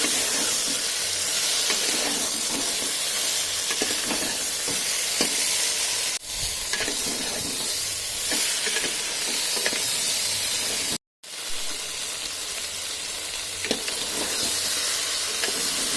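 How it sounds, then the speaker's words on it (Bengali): Meat and soybeans stir-fried with meat masala in a pan, giving a continuous loud sizzle and hiss with scraping stirring sounds, briefly cut by two short dropouts, and no talking. "আবার আমি ভালো করে কষিয়ে নেব।"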